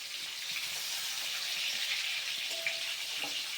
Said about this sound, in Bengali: পাঁচফোড়ন দিয়ে তেলটা গরম হওয়ার পরে আমগুলো ছেড়ে দিলাম। আমগুলো এখন কষছি।